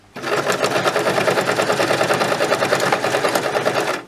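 A sewing machine runs steadily through waterproof PUL polyurethane laminate fabric with a standard presser foot, its fast, even stitching rhythm close and loud for about four seconds.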